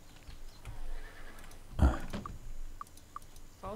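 A horse whinnies in the video game Might and Magic VI, a short burst midway through amid quiet game ambience, with a few faint clicks around it.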